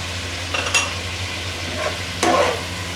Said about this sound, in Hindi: इनको हमने 7 मिनट तक अच्छी तरह से भूनना है